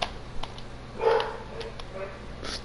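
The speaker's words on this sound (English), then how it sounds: "Sorry if you hear dogs barking." A dog gives a few short, fairly distant barks and yips against a quiet background, with a slightly louder bark in the middle.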